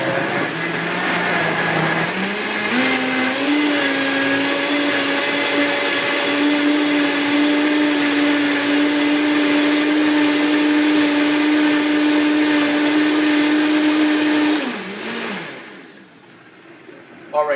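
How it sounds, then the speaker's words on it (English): A blender whirs loudly through a batch of carrots, its motor rising in pitch and holding a steady high drone for over ten seconds before spinning down, followed by a quiet clack near the end. "let's go ahead and blend this bad boy down"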